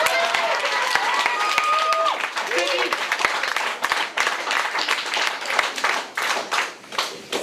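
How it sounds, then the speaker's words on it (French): A crowd applauds loudly, with sharp individual claps standing out over a continuous bed of clapping, while voices and a few tonal calls rise above it early on. "donc vous pouvez m'applaudir très fort."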